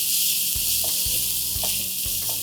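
Onions, crushed ginger, garlic and green chilies sizzle loudly and steadily in a hot pan, with a few soft thumps as the mixture is stirred.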